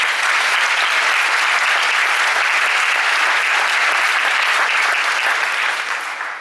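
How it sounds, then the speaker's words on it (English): Loud, sustained applause fills a town hall meeting, a dense wash of clapping from a large audience that holds steady for several seconds before beginning to taper at the end. "let's give them another round of applause"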